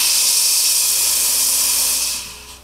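A Decent Espresso DE1 steam wand steams with a loud, steady, broad hiss that holds evenly and then tapers off near the end, with no talking.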